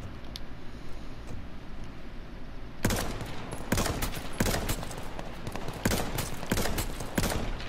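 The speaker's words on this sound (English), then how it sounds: "Did you hear gunfire?" Rapid bursts of gunfire crackle repeatedly in the video game H1Z1, loud sharp volleys following a quieter stretch.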